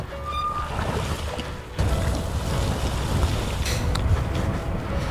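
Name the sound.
wind noise while riding an electric moped on slag heaps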